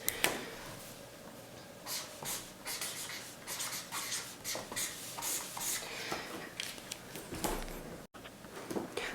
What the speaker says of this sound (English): So I'm going to write that word down, trust.